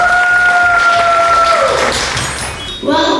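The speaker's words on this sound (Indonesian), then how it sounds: "Tepuk tangan yang paling meriah." Applause from an audience at a children's MC school event in Surabaya, a steady wash of clapping with sustained tones ringing over it, then a brief dip and a fresh swell near the end.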